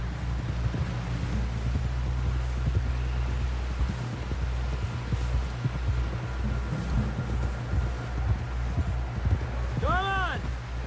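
A horse's hooves clip-clop at a steady, rhythmic gait in Red Dead Redemption 2, the even beats close and continuous under light wind, with a brief voice near the end.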